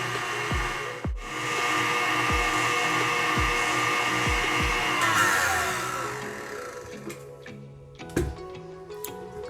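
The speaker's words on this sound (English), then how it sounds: "So once you have all your sugar in there, you want to whisk it to a stiff peak." Electric mixer whisking sugar mixture to stiff peaks for an Indonesian lapis spice layer cake, a steady motor whine with repeated knocks of the beaters against the bowl, quieting toward the end with a few clatters.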